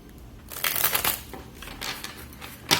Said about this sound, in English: let me shuffle a bit more